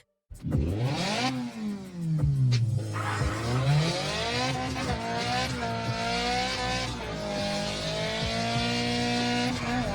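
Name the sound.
car drifting in video game CarX Drift Racing 3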